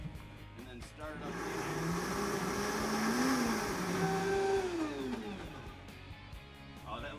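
A blender runs continuously, whirring and shifting pitch as it blends homemade pesto with parmesan, zucchini and olive oil, the motor loud and close in a home kitchen.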